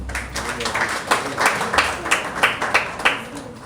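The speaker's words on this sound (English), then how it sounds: "I didn't expect you to clap." An audience at a Uganda Law Society speech breaks into light, scattered clapping that pulses in quick bursts for a few seconds, fairly close and modest in volume.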